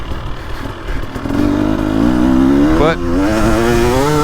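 A KTM 300XC two-stroke dirt bike engine revs hard and close, its pitch climbing steadily and briefly dipping before rising again, loud and continuous with a brief word spoken over it.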